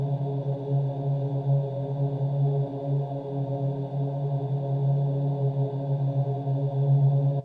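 A sustained synth pad, made by resynthesizing a vocal sample in the Parawave Rapid synth, holds a steady droning chord with a slight shimmer for about seven seconds, then cuts off abruptly. No voice is heard over it.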